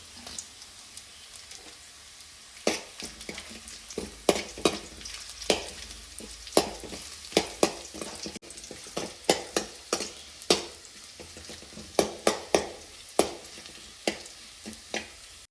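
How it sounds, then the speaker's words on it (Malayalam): Dried red chillies sizzle and fry in hot oil in a pan, a steady crackling hiss broken by sharp stirring clatters, close and loud with no talking. "ഇനി ഇതിലേക്ക് നമുക്ക് വറ്റൽമുളക് ഇട്ട് കൊടുക്കാം"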